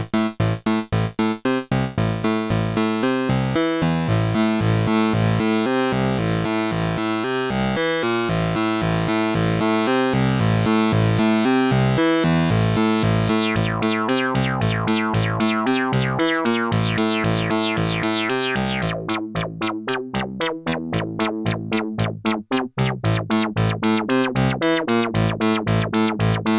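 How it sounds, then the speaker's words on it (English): A synthesizer plays a repeating note sequence while its envelope, routed to the filter cutoff, changes note length and brightness, the pulses shifting from long bright tones to short clipped plucks, loud and alone. "as I play the sequence and adjust the envelope, you'll hear the effect not only on the length of the notes,"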